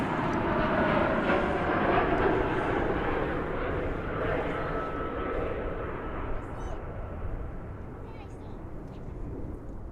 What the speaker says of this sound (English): Here comes a flight from San Antonio.